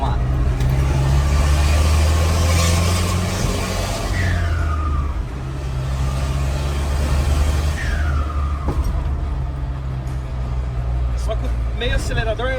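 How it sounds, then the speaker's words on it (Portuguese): A Chevrolet D20 S4 pickup, originally naturally aspirated and now fitted with a K16 turbocharger, pulling hard up a steep hill with a loud, steady engine drone and turbo whine, recorded from inside the cab, with people talking over it. "A turbina já enche, olha."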